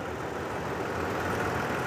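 A 2016 Toyota Tacoma TRD Off Road engine idles in a steady, even drone, close and continuous with no other sounds.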